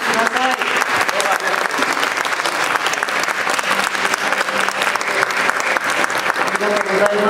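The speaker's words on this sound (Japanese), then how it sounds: "大きな拍手で、" A crowd at an art festival kickoff party gives a long, sustained round of applause to see off the departing mayor, a thick, even roar of clapping hands with faint voices beneath.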